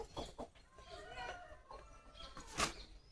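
Chickens cluck nearby in short, scattered bursts, with a quiet voice faintly in the background.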